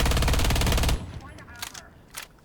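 Scorpion submachine gun in Rainbow Six Siege, fitted with no muzzle attachment, a horizontal grip and a holographic sight, fires one loud, rapid, unbroken burst for about a second, then falls silent except for fading echoes and faint mechanical clicks.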